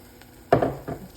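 Roiko powder mixture pours into cooking githeri in a pot with one soft, close splash-like thud. A smaller follow-up clatter comes after it, then quiet.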